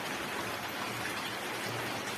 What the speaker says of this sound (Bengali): এতটা পরিমাণে বৃষ্টি হচ্ছে